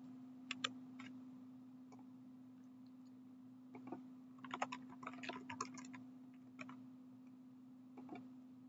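Light clicking of a computer keyboard as a name is typed, scattered bursts of soft keystrokes over a steady low electrical hum, fairly quiet and close.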